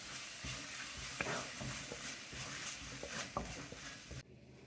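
Masala is stirred and fried dry over low heat in a pan for Maharashtrian maswadi, giving a continuous soft sizzle with irregular scraping and tapping strokes close by, ending abruptly.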